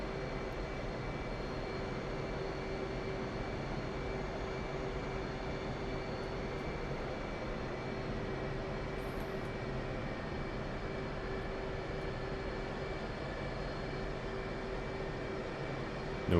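An F/A-18C jet on an aircraft carrier in the DCS World flight simulator gives off a constant, even engine drone with a high steady whine on top, unbroken for the whole stretch.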